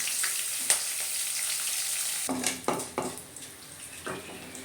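Garlic and bird's eye chillies frying in oil in a pan, a soft sizzle that turns busier partway through with several scraping stirs and clatters, no talking.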